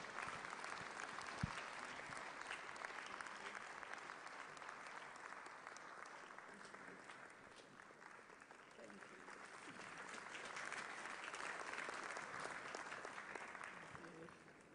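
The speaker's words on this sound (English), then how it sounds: "Please keep clapping till she gets there." Steady audience applause at a memorial service of songs, a dense continuous wash of clapping that holds for about fifteen seconds, moderately distant and even, with a faint voice mixed in.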